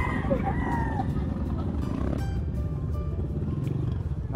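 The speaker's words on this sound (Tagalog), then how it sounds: "Ito mga manok, mga panabong na manok" Fighting roosters crowing over a noisy market background, a couple of drawn-out calls early on, fairly near, with clucking and engine rumble underneath.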